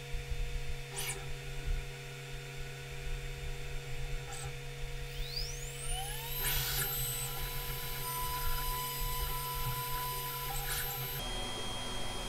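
A GRBL-controlled CNC router with an automatic tool changer runs a cleanup toolpath, a steady motor whine over mains hum with rising spindle tones and brief clicks, continuous and moderately close.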